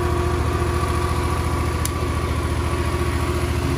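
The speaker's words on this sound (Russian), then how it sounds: "Двигатель отлично заводится," A Yamaha MT-07 motorcycle engine idles steadily nearby, a rhythmic, even mid-pitched thrum with a constant pulse and no revving, running alone without talk.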